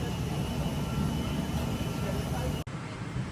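Steady broadband roar of a large airliner's engines heard from inside the cabin during boarding, a constant loud drone broken by one brief dropout near the end, with faint indistinct talk mixed in.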